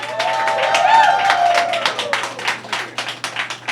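Audience at a Caribbean Heritage Month celebration applauding Senator Roxanne Persaud, dense crowd clapping with a few cheers, loud and sustained before thinning into scattered claps toward the end.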